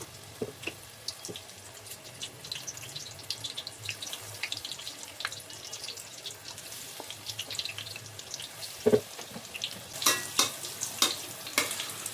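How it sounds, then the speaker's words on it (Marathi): Batata vada potato fritters deep-frying in hot oil for Mumbai-style vada pav, a steady soft crackle and hiss close by with a few sharper spatters and a louder burst of bubbling near the end, no talking. "तर चला आपण आता वडे तळून घेऊया."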